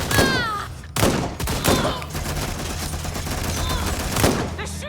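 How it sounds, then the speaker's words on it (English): Gunfire in the video game Watch Dogs Legion: a handful of sharp, loud shot bursts at irregular intervals, the first two close together and another near the end, over a steady low game hum. "They're shooting!"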